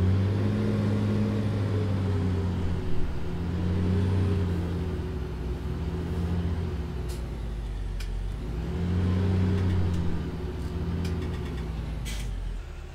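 Farm tractor driving across a field in Landwirtschafts-Simulator 19 on the Nordfriesische Marsch map, a steady low diesel drone with slowly swelling and easing engine load, continuous and close throughout.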